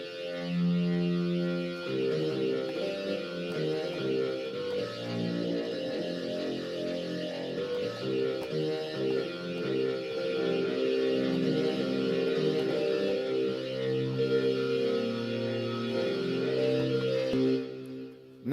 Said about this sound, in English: Now, I am going to demonstrate with a synthesizer that is a tad more dramatic.